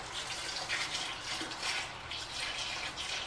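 Chilled beer wort is poured slowly into water in a home-brewing fermenter, making a steady, close, continuous gush of liquid with no voices.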